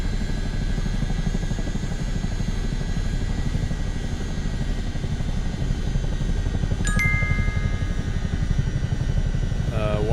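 A helicopter engine in Microsoft Flight Simulator 2024 gives a loud, steady turbine roar with rapid rotor chop throughout, and a brief electronic tone and chirp cut in near the end.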